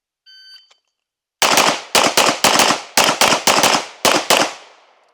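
A rapid string of loud gunshots rings out during practical shooting training at targets, roughly seven sharp reports in quick pairs and clusters after a short electronic beep, each shot cracking up close and then decaying.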